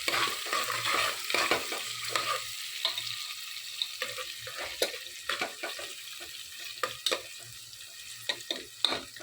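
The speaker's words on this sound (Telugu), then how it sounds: "ఫ్రై అయ్యేలాగా చూడాలి." Food frying in a pan for a paya curry, faint sizzling under a run of irregular scraping and clinking stirring strokes, with no talk.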